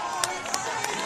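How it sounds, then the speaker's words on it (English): Crowd at a weightlifting competition cheering and clapping, a dense wash of voices and applause with a few sharp claps standing out, fairly loud and steady. "Listen to the crowd getting behind her."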